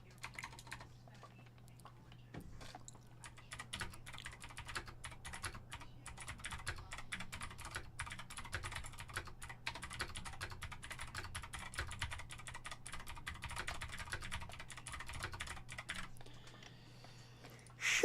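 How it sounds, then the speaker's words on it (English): Quiet, steady typing on a computer keyboard clatters on continuously for about eighteen seconds, keys tapping in quick uneven runs. "What the fuck you do to your keyboard?"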